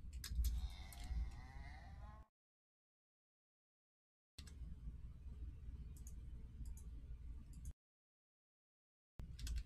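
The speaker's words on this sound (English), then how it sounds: "All right, that's a baby cow." A baby cow moos in the Minecraft video game, a short series of calls in two bursts separated by silence, fairly close and clear with faint clicks.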